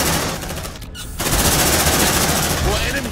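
Dense, loud automatic gunfire from the Aliens: Dark Descent game, continuous bursts with a brief break near the start, mixed with overlapping voices.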